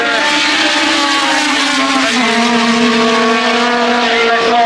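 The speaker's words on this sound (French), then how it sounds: "les F2 et les F1, c'est maintenant dans la ligne droite" Formula 1 and Formula 2 race cars scream along the straight at the Croix-en-Ternois circuit, a loud sustained high-pitched engine howl with shifting harmonic tones as the cars pass close by.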